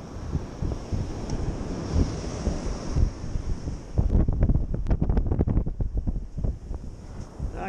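Wind buffets a microphone outdoors in a steady, rough rumble, with a run of sharper gusts and knocks in the second half; no one speaks.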